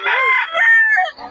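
A Sweater Gilmore gamecock crows once, loud and close, its drawn-out call rising and then trailing off, with no talking over it.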